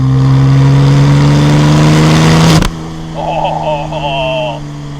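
A Porsche 996 Turbo Cabriolet six-speed engine revs hard on a damp road, then cuts off with a sharp blow-off hiss before the turbos whoosh and the engine settles lower.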